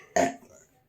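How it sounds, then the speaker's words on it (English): A single short, loud burp that cuts in sharply and trails off quickly, alone with no talking. "Burping part 3."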